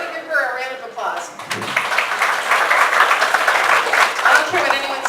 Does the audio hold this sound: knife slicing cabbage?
no